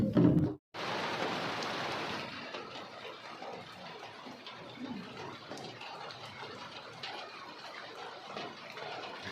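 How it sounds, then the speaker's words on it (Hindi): Steady rain falls in a dense, even hiss in windy hill-village weather, with a brief loud burst of noise at the very start before the downpour continues unbroken. "बारिश तो ऐसे लग रखी बस जिस हिसाब से हवा चल रही है"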